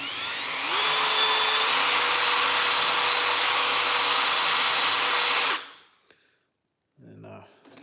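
Power drill spinning a file to sharpen chainsaw teeth: a loud, steady motorized whine that steps up in pitch early on, runs continuously for about five seconds, then cuts off, leaving near silence and a faint rustle.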